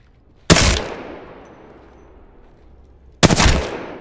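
Two loud, close gunshot blasts from Apex Legends target training, a few seconds apart, each followed by a long decaying tail and near silence between.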